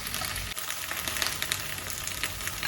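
Okra frying in a pan until light brown, a dense, steady sizzle and crackle close up with occasional stirring scrapes.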